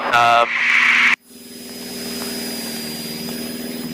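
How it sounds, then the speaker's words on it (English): A light aircraft engine running a little rough during a climb drones steadily with a pulsing, throbbing hum, following a brief loud burst of voice at the start, then holding at a constant moderate level. "Sorry, the engine's just running a little bit rough. I think it's just because we're climbing."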